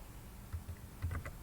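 Typing on a computer keyboard while writing in MS Word: a few faint, quick clicky keystrokes in a short burst, quiet and close, with no one talking.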